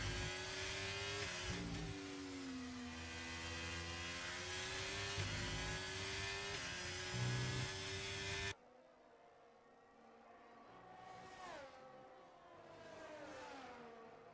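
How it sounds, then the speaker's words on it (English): Race car engine from a Qatar Grand Prix sim racing broadcast, one car leaving the pit lane: a loud sustained engine drone with shifting pitch, dropping abruptly to a quieter, distant whir with brief rising revs. "There's a car coming out of the pit lane."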